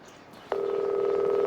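A cellphone in a video game starts ringing after a brief quiet lead-in: a steady, loud electronic tone that holds on without a break, with no voices over it.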